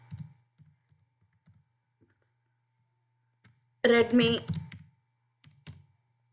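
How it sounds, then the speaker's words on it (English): Someone types on a computer keyboard, soft scattered key taps at first, then a short burst of clicking beneath a spoken word, followed by a few more light taps. "Item name I am typing now."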